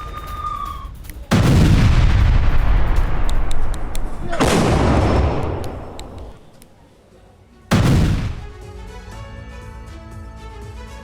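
Russian artillery strikes on a Ukrainian command post in Kharkiv: three heavy, booming blasts a few seconds apart, each loud and close with a long rumbling decay, overlaid by excited voices.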